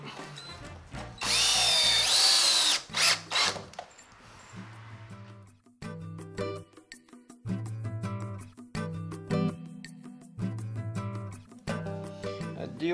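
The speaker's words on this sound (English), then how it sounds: "A DeWalt drill." A DeWalt power drill drives screws into wood framing for an archway, sounding in repeated short whirring bursts with pauses between, plus one longer, louder run near the start.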